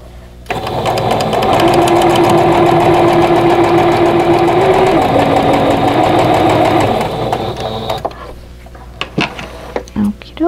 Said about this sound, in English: So now I'm going to sew on the square to this side.